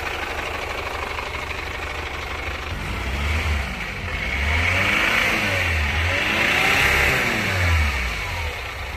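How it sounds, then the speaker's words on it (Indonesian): The diesel engine of a Chevrolet Captiva runs rough with a fuel-line problem, idling unevenly and then revving in a few repeated bursts, with a low, shaky knock under the throttle, close and with no talk. "Mesinnya sangat goyang sekali, bunyinya kasar dan juga berasap hitam."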